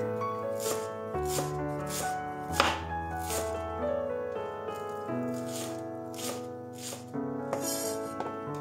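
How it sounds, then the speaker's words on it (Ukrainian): Onion chopped finely with a knife on a board, a steady run of quick, crisp blade taps repeating throughout, heard up close over soft background music. "А іншу частину цибулі я нарізаю дрібненько"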